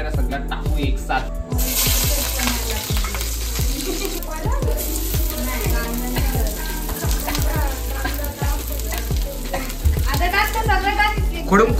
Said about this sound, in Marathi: आता त्यांना आपण ऑइलवर फ्राय करायचे.